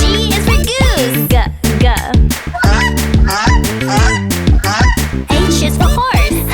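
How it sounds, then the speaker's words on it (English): Geese honk loudly and repeatedly in a dense, overlapping chorus of nasal calls, close by and continuous with no other sounds. "G is for goose. Honk, honk."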